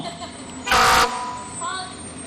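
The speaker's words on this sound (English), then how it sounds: "Giving us a honk." A vehicle horn gives one short, loud honk from a passing parade entry, standing out over crowd chatter and street background.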